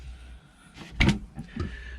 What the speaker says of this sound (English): we do have this little cupboard door down here